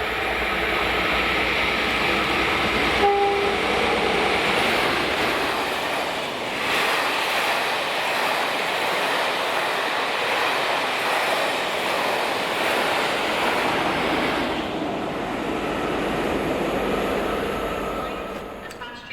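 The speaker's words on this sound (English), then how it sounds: "Now here we are at Wallyford for the departure of the Northern Bell" The Northern Belle charter train, led by locomotive 57313, departs Wallyford as a broad, steady rumble and roar of passing rail cars with a brief tonal squeal near the start, heard up close.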